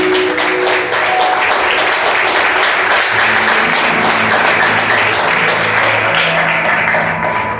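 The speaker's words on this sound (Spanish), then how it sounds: "¿Cuántos le dan un aplauso al Señor por esto?" Church congregation applauding, loud sustained clapping from many hands filling the space evenly, with a faint low tone underneath and no speech.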